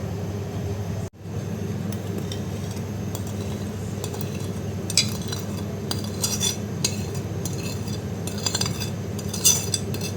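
A spoon clinks and scrapes inside a boiling pot while a milk and cream caramel powder mixture is stirred, with light metallic taps over a steady low hum of the stove; close, no voices.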